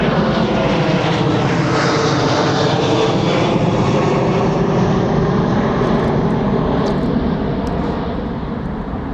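A loud, continuous roar from an American Airlines passenger jet taking off at Heathrow, powerful and steady, easing slightly at the end as the plane pulls away.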